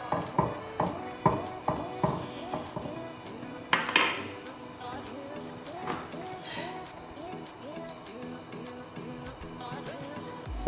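Tinned coconut cream is mixed into Jamaican rice and peas in a pot, starting with a run of sharp spoon knocks and scrapes against the metal, then a softer, steady stirring clatter, with a voice talking over it.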